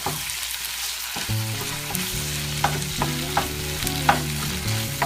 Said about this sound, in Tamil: நல்லா வதக்கிக்கோங்க தக்காளி